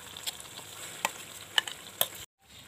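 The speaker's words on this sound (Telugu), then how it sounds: "ఇందాక మిక్సీ వేసుకొని పెట్టుకున్న గోంగూరని ఈ తాలింపులో వేసుకోవాలి" Ground gongura leaves hit hot tempering oil with onions for gongura pickle, a close crackling sizzle broken by a few sharp spatters and stirring clicks before cutting out abruptly.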